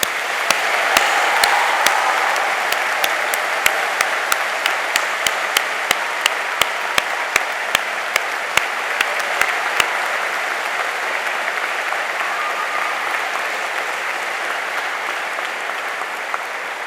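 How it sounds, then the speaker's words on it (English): A big hall audience at a university graduation ceremony gives a long, loud round of applause, dense steady clapping with a few sharp individual claps standing out, no talking over it. "give them a really big round of applause and lift the roof"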